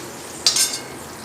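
Masala for mutton curry stirred while frying in a pan: one short scraping stir with a brief sizzle, close and clear, over a faint background hiss.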